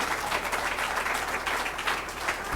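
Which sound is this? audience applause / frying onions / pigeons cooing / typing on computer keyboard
audience applause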